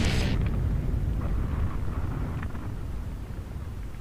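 An explosion in the video game Renegade Ops opens with a sharp blast, then gives way to a heavy, sustained low rumble that slowly fades.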